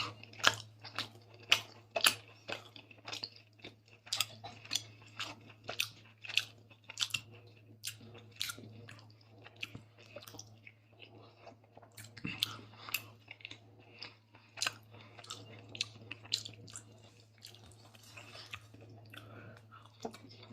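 Close, soft chewing and crunching of mutton biryani, irregular wet bites and clicks over a low steady hum, with no talking.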